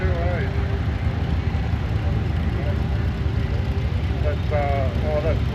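A vintage Farmall 100 tractor engine runs steadily through a machinery club grand parade, a continuous low engine rumble with people talking over it throughout.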